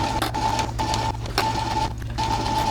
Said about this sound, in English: we're gonna take this over to our sewing machine and we're gonna sew it